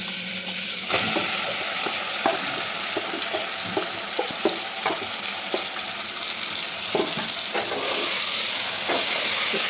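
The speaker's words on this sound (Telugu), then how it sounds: "ఆనియన్స్ చికెన్ బాగా కలిసేలాగా కలుపుకోవాలి" Steady frying sizzle of chicken and onions in a cooker pot, with a broad hiss, broken by repeated scraping taps of a spoon stirring, close and fairly loud throughout.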